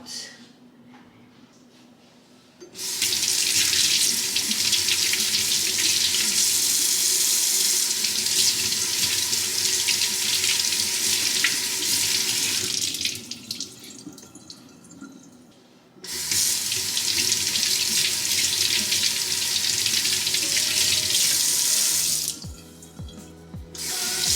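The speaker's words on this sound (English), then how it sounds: "let's rinse these out" A kitchen tap runs into the sink while food is rinsed for budget meal prep. Two loud, steady stretches of gushing water are separated by quieter pauses with faint handling sounds.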